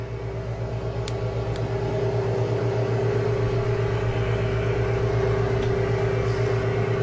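A valve grinding machine runs with cutting oil fed onto the valve face, giving a steady mechanical hum with a constant tonal whine and a faint background hiss, unchanging and fairly quiet throughout.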